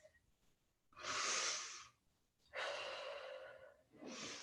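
Deep breaths are drawn during a morning yoga forward bend: two long, soft breaths close to the mic, separated by a short pause, with a third beginning at the end, and no talk.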